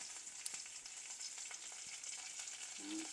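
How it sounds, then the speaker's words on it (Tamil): Onions, curry leaves and green chilli frying in oil in a clay pot, a soft, steady sizzle and crackle close by with a few light pops, no talking. "இப்போ இது நல்லா பொரிஞ்சு கொண்டு வருது"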